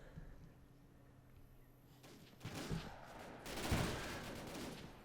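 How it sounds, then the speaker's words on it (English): Distant battlefield gunfire from a firefight in the Totaler Krieg WWII game mod, with British paratroopers and a Bren gun in action, builds after a quiet start into a dense, rolling clatter of shots and bursts that peaks near the end. "And the firefight is on"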